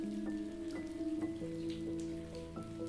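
Steady rainfall patters continuously beneath gentle, sustained musical notes that shift pitch slowly, with no voices present.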